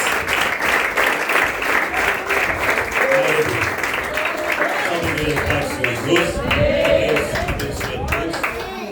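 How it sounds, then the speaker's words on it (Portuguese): Enthusiastic applause from a church congress crowd, loud rhythmic clapping sustained for several seconds, with voices calling out over it. "Vamos receber o servo do Senhor com palmas bem alegres para Jesus."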